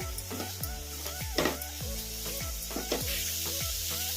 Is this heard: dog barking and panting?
no